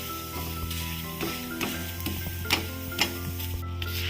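Methi thepla, a fenugreek-leaf flatbread, sizzles steadily on a hot pan, with irregular crackles and pops breaking through the continuous frying hiss.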